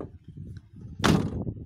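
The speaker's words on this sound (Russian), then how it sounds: "Закрой дверь." A car door slams shut with a single loud thunk near a roadside holy spring by a village, following quiet low rumbling.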